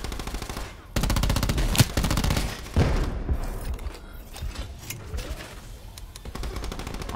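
Gunfire in Call of Duty Black Ops 4 during a PC multiplayer match: long, rapid machine-gun bursts, loud and close, broken by brief pauses, with some distant shots in between.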